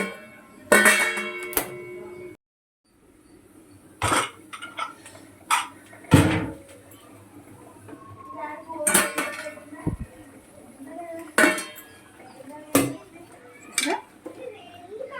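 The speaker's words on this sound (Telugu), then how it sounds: "బాగా నానుంది కదా మూత పెట్టేద్దాం" A lid goes onto a pot of chicken curry: sharp metallic clanks and clatters of cookware come one after another with quiet gaps between them, and some voices can be heard in the kitchen.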